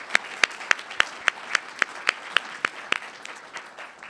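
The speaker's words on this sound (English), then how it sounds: "I just want to give a quick round of applause to our speakers" A small audience at a presentation on organic farming gives a short round of applause for the speakers: a dozen or so distinct, evenly spaced claps, sharp and near, tapering off toward the end.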